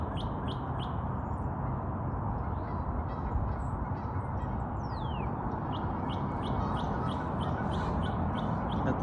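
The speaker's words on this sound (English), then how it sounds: "Got the geese honking." Geese honk and call repeatedly at a distance, mixed with other bird chirps over a loud, steady wind or rushing background noise outdoors along a Utah road trip.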